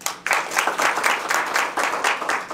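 An audience at a community education forum keeps up steady applause, with dense clapping that swells and dips in rhythmic waves and never fades out.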